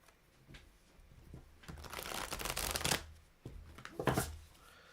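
A thick, slightly oversized tarot deck is shuffled by hand, giving quiet riffling and flicking bursts that build into a denser flurry of card slaps, then a couple of shorter riffles near the end.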